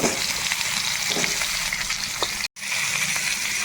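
Bitter gourd pieces fry in a little mustard oil in a wok with a dense, steady sizzling hiss and light stirring, close and loud, broken by one brief dropout.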